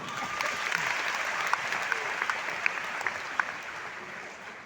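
Sustained applause from an audience at a gathering, steady and fairly distant, with a few sharper claps standing out and faint voices beneath.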